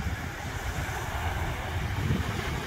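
Beach breeze at sunset on Anna Maria Island buffets the microphone in a steady, gusty rumble, with a soft wash of surf underneath and no voices.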